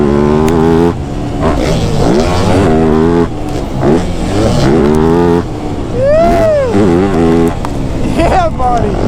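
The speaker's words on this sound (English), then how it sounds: "Oh, I just heard the two-stroke." Two-stroke dirt bike engines rev and bog loudly around a motocross jump, pitch rising and falling in repeated bursts with a sharp high whine near the end, while people talk and laugh over the riding.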